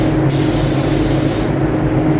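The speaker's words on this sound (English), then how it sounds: "So you're spraying an arc." A paint spray gun hisses steadily and loudly while coating a 2014 Harley-Davidson Street Glide motorcycle, a continuous close airy spray with no talking.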